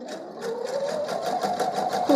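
A sewing machine stitching a fabric coaster block, a rapid, even train of needle strokes running steadily close up, with a brief sharper whir as it stops.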